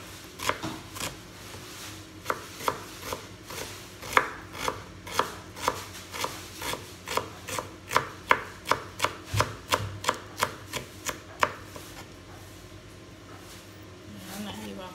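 Onion being chopped with a knife for a tuna sandwich, a run of quick, regular taps on a cutting board that speeds up, then stops, heard close with some background noise.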